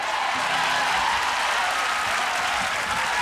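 Sustained, dense applause from a large concert audience for a singer, steady and loud throughout without any pause.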